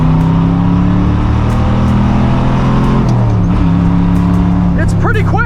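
A classic Chevrolet Corvette accelerates hard, its engine note loud and close, with rising harmonics and a brief gear-change dip midway, while tire or wind noise chirps near the end.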